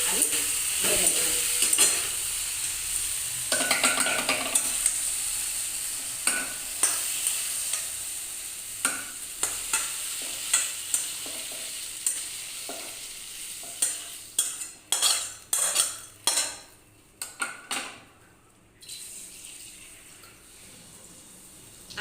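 Masala being stirred and sautéed in a hot kadai while cooking a Bengali fish curry, a low sizzle under a run of sharp scraping stirs that come quicker and louder toward the end.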